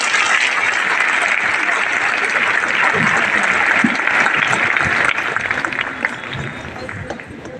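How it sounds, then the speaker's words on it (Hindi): An audience breaks into loud, sustained applause, a dense wash of many hands clapping that holds steady before gradually thinning toward the end. "तो एक बार जोरदार तालियां इनके लिए।"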